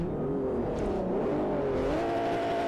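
A race car engine in Forza Motorsport 4 howls through the gears around a Montserrat track section, with its pitch rising and dipping as it revs, loud and close, with no speech.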